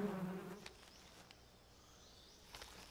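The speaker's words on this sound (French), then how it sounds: "Je peux tirer dans les abeilles." Bees buzz faintly in the video game Metal Gear Solid Delta: Snake Eater, a thin insect drone with brief louder passes near the start and end over quiet ambience.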